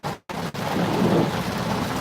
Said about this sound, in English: it is raining like crazy right now